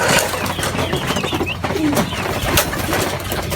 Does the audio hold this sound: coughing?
no